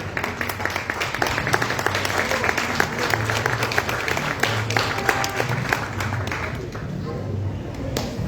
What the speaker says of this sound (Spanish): Vamos a dar un fuerte aplauso a la maestra Marcitiana Ortega